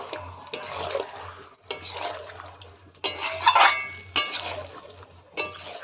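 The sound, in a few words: meat being sautéed with spices in a pan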